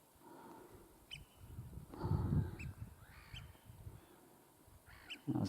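Gulls call over open water near an islanded pond in mid May during nesting season, giving several short harsh calls spaced through the clip against a low outdoor rumble, with one louder call at the end.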